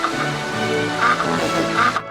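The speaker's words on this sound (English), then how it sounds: "a novelty app that makes it emit the sound of a farting duck" A novelty phone app plays a comic farting-duck sound, a run of loud, nasal, quack-like blasts repeating roughly every half second, close and alone.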